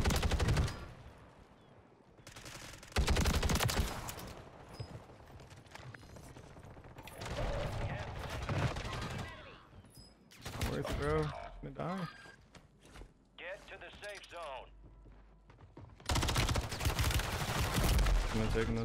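Bursts of gunfire from the Warzone video game on Rebirth Island, loud clustered volleys that break off and return, with talk running between the shots.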